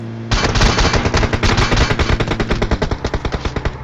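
Loud, close automatic gunfire from enemies in PUBG Mobile, a long rapid burst of evenly spaced shots that slows slightly toward the end, with no talk over it.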